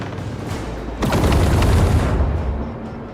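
Ship weapons firing in the space combat of the Rogue Trader video game: a sudden heavy boom followed by a rolling burst of rapid impacts and rumble that trails off over a couple of seconds.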